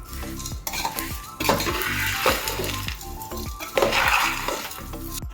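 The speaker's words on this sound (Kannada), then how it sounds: "ಈಗ ಮಿಕ್ಸಿಂಗ್." A spoon stirs a crunchy avare bele snack mixture with salt, chaat masala and chilli powder in a bowl, making repeated rhythmic scraping and clinking strokes up close.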